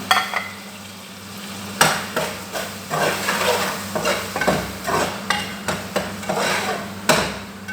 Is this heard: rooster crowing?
no